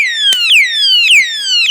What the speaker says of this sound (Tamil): இப்போ ஒரு அலாரம் சவுண்டு வருது.